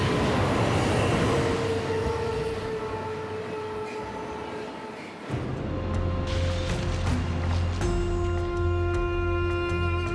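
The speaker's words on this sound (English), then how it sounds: "Pretty impressive how long this train is." A very long freight train rolls past in wooded Canadian country near a river, a steady loud rumble with rail squeal and ringing tones, and a shift in the clatter about halfway through as the cars keep coming.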